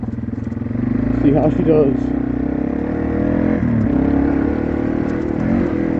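A Yamaha TW200 motorcycle circles a dirt track, its engine holding a steady, close drone with brief rises as the throttle opens. Someone talks over it throughout.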